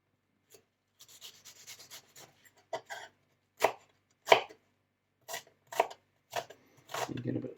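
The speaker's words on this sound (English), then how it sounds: "Right, chopping the onions." A knife chops onions on a board in a home kitchen, irregular crisp cuts at first, then about ten separate, louder strokes spaced roughly half a second apart, close and distinct against quiet.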